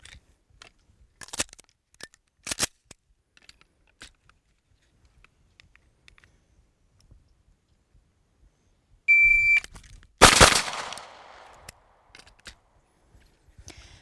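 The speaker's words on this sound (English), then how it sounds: "I'm going to draw with the timer so I have an audible start. I'm going to draw and shoot 2 shots." A shot timer's electronic start beep followed by two quick pistol shots during a draw-and-fire drill on a close target at a shooting range, the beep short and sharp, the two shots loud, close together and near, with quiet handling noises before.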